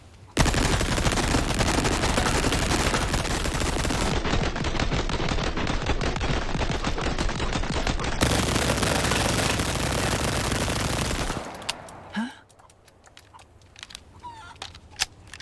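A DLC weapon in Resident Evil 4 Remake fires in a loud, relentless rapid burst lasting about eleven seconds, then cuts off into quieter metallic handling clicks and clatter.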